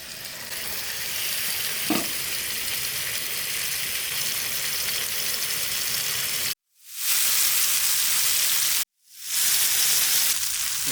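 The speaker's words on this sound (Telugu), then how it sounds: "రోస్ట్ చేస్తున్నాం." Pomfret fish roasting in oil in a pan gives a steady, close sizzle with a soft spoon scrape near two seconds. The sizzle cuts out twice and then rushes back in.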